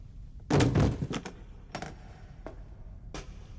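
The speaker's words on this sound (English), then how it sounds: "Put the cases on the ground." Cases are set down on the ground in a tense animated standoff: a heavier cluster of thuds and knocks comes first, followed by a few scattered single clunks against a quiet background.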